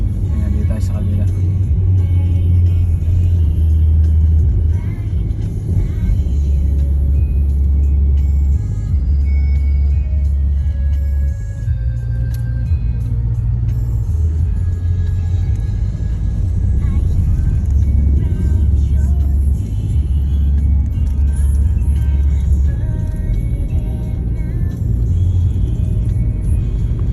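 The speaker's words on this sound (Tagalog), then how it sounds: "tingnan nyo yung traffic mula San Pedro hanggang Muntinlupa." Road traffic between San Pedro and Muntinlupa rumbles as a continuous low drone from inside a moving vehicle, with a voice talking over it.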